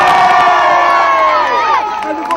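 A big crowd cheers and shouts to welcome home the Adare hurling champions after the 2001 Limerick senior hurling final, a loud, dense roar of voices with whoops, steady throughout and fading slightly at the end.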